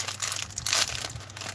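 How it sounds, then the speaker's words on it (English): Plastic LEGO parts bags crinkle close by, a short burst of dry rustling and crackling that swells briefly in the middle before settling. "If you hear a whole bunch of crinkling in the background"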